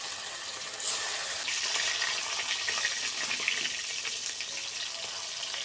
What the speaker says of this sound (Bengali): একে একে মাছগুলো তেলের রেখে দিয়ে দিচ্ছি